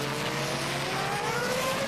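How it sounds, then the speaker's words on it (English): A Formula One car at the 2002 US Grand Prix runs with its engine sounding rough as traction control cuts in, a loud steady rising engine whine with tire noise and no talk. "Can't really tell how that engine's running through this section because it sounds rough as the traction control cuts in"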